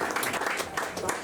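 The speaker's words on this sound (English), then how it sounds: "Or you can give them a round of applause as well." Audience applause follows the staging of a short theatre play, a brief wash of clapping from a small crowd indoors.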